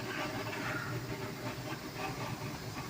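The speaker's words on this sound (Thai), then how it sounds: "ตัวนี้กำลัง ต้มหมูอยู่ครับ" Pork offal, including liver and heart, boiling in a pot, a constant loud bubbling and steamy roar with rippling texture, steady throughout with no voices.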